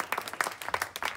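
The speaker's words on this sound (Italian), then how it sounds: "Facciamo un applauso per il coraggio" Brief scattered clapping from a small audience at an outdoor evening show at a beachside chalet in Cupra Marittima, a quick burst of hand claps lasting about a second.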